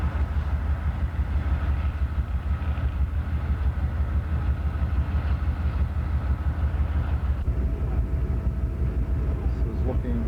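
Steady, loud low rumble of two idling Amtrak Genesis diesel locomotives at Lorton station with a constant droning hum, a faint tonal whine shifting partway through.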